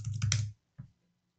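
A short burst of computer keyboard typing, a quick run of clicks followed by a single isolated keystroke, close and fairly quiet, with no talking.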